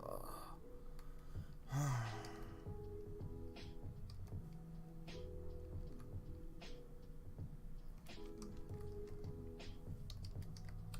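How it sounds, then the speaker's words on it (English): Steady clicking of typing on a computer keyboard during a live stream, with irregular bursts of keystrokes close by and a brief breathy sigh near the start. "Oh, I hate typing up these long words like"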